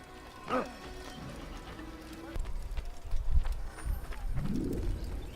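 Hooves of a white horse clip-clop at a steady walking pace in the game Assassin's Creed, with bird cooing and ambient game sounds around them.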